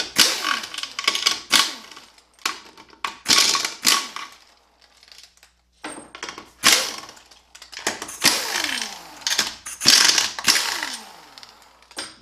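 Ratchet wrench spinning off 13 mm bolts around a 4T65-E transaxle side cover, heard as repeated bursts of rapid clicking separated by short pauses, close and fairly loud with metallic clinks between.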